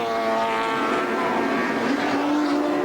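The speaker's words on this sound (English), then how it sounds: "Driving the wheels off the Nissan GTR today." A Nissan GTR race car at the 1992 Bathurst 1000 screams past at full throttle, a loud, continuous high-revving engine wail with a rising pitch shift near the end.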